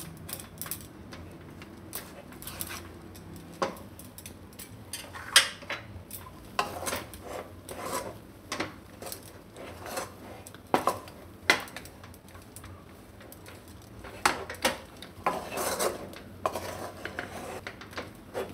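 A spoon scrapes and knocks against a pan as a cashew and fig roll mixture is stirred, making close, irregular metallic clatter and scraping that runs on throughout with no talk.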